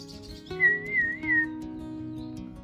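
A young male olive-backed sunbird gives a thin, high, wavering whistle of about a second. It sounds close and clear over a faint, steady hum.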